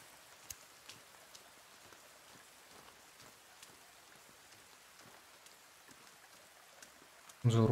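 Soft, steady rain patters with scattered faint drops in the video game The Forest, quiet and even throughout, before a louder burst of sound cuts in right at the end.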